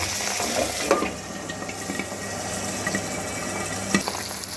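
Pabda fish frying in hot oil in a pan, giving a steady close sizzle with faint crackles and a few sharp spits, no talking.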